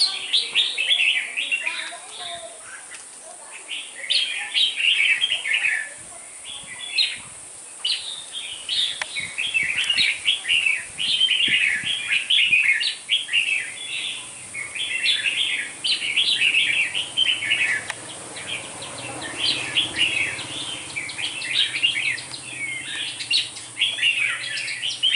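A seven-month-old wild red-whiskered bulbul with a wing fault sings repeated bright, warbling phrases in a steady run of bursts, fairly close and clear, with faint background noise underneath.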